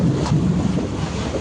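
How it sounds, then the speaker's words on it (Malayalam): A boat reversing with its engine running, a steady low rumble under wind noise and churning water, continuous and fairly close, with no voices. "Boat back എടുത്തുകൊണ്ടിരിക്കുകയാണ്."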